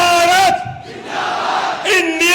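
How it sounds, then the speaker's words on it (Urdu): A large crowd at a political public rally chants slogans in response, in loud, ringing bursts of massed voices at the start and end, with a quieter, muffled crowd roar between. "بس آخر میں آپ سے 2-3 نعرے لگاؤں گا، زوردار"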